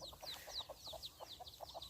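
Chickens and chicks foraging in the open around a rural farmhouse in the rice fields, giving soft repeated clucks and high peeping calls at a steady, busy pace, fairly quiet and close.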